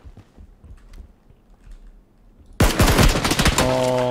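Loud, dense automatic gunfire erupts in PUBG on the Erangel map after a quieter stretch of faint game ambience, continuing as a rapid burst of shots to the end.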